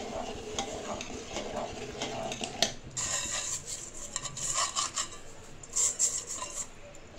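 Roasted semolina being stirred in a metal pot, a steady scraping and rasping of a spoon against the pan with faint sizzling, continuous and close, no talking.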